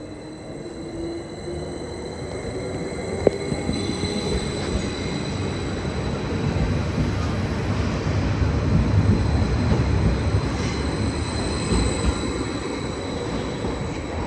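A train rolls through Ipswich station on the Great Eastern Main Line toward Colchester carriage sidings, its rumble building and holding loud with wheel noise and faint squeal, no voices over it.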